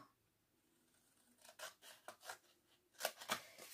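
Scissors snipping through a paper strip while making a storage box, several close, crisp cuts in two quick groups after a quiet start.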